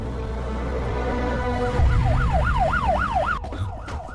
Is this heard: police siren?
yes